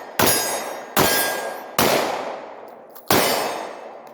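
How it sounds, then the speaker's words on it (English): Four sharp, loud Glock pistol shots fired one-handed while moving left on a range, spaced unevenly about a second apart, each with a long ringing decay and no talking between them. "we're gonna do some one-handed shooting now"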